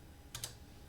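A short, quiet pair of keystrokes on a computer keyboard, entering a command to configure a Cisco router or switch, with two quick taps close together and nothing else around them.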